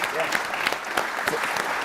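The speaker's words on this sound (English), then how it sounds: "with that, round of applause." A crowd at a policy panel on American equipment manufacturing gives a round of applause, a dense wash of clapping over a couple of seconds with some voices mixed in.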